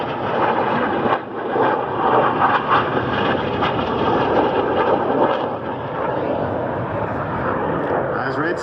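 Red Arrows jets at an air show in Gdynia roar past in a loud, sustained rumbling sweep that swells and fades, with a commentator talking over the engine noise.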